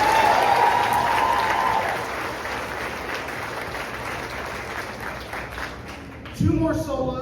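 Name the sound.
audience applause at choir concert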